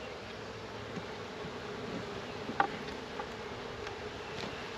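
Honey bees from a swarm caught in a trap, buzzing steadily as a soft, continuous drone inside the hive, with faint ticks and one brief clack partway through.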